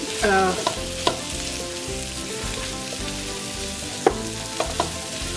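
Coriander potatoes, Indian-style dhaniya aloo, are stirred and crushed in a frying pan, with a steady sizzle under scraping strokes and a few sharp utensil knocks against the pan.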